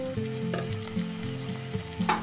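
Local chicken pieces fry in a pan with ginger, garlic and onion, a close, steady sizzle broken by short scraping strokes of a stirring spoon.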